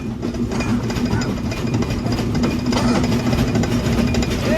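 The Rupsha Express with worn, rattling Indonesian INKA coaches runs steadily, a loud continuous rumble with rhythmic wheel clatter and shaking from inside the carriage.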